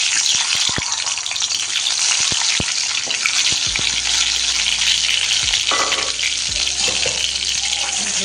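Eggs coated in salt and turmeric fry in hot oil with a loud, continuous crackling sizzle, broken by sharp spatters and a brief rush of running water near the pan.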